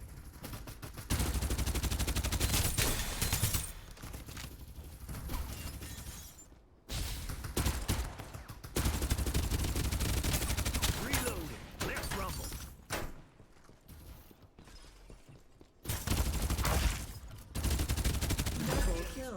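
Rapid gunfire in the battle royale shooter Farlight 84, dense bursts of automatic shots and impacts that stop briefly and resume, with someone talking over the shooting.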